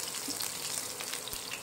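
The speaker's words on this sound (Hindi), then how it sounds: "अब हम इसमें डाल रहे हैं ये अदरक के टुकड़े, ये लहसुन, इसे हम 2 मिनट फ्राई कर ले रहे हैं" Pieces of ginger and garlic fry in a pan of oil, making a close, steady crackling sizzle with small pops and no voices.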